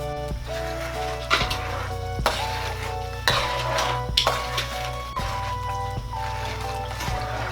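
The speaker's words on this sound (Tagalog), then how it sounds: "Tapos halo-haloin lang po natin." A spoon stirs sugar into a pot while making suman, producing repeated scraping and knocking strokes roughly every second over a steady low hum, moderately close with no talk.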